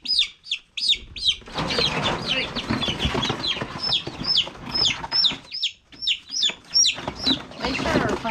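Gold laced chickens cluck and squawk close by in a run of short, sharp calls, some overlapping. Brief scuffling and background noise sit between the calls.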